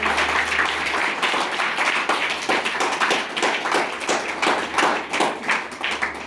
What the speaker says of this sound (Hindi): हम आप लोगों से चाहेंगे खड़े होकर एक स्टैंडिंग तालियां